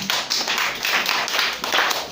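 A class of students claps for themselves at a maths bootcamp, with loud, rapid, fairly even applause filling the space close by.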